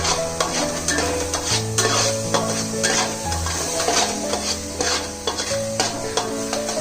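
Tomato puree being stirred into fried onions in a pan makes close scraping and stirring sounds over a steady sizzle, with occasional utensil knocks against the pan.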